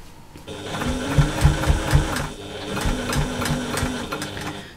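A sewing machine runs steadily as it back stitches the start of a seam on a slouchy bag, its motor hum and rapid needle chatter loud and close, with a brief pause midway before the stitching resumes.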